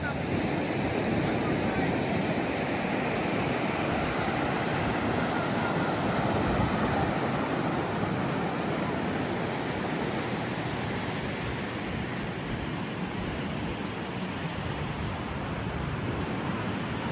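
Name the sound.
ocean waves on the beach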